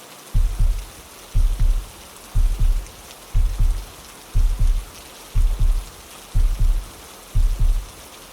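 Steady rain hisses evenly throughout, overlaid by deep, regular thumps about once a second that stay close and loud; no voices.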